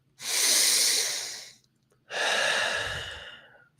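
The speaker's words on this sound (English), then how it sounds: "Keep going. 5 more breaths." Two long, deep breaths during a breathwork exercise, each a loud, close airy rush lasting over a second, separated by a short pause, with no talking.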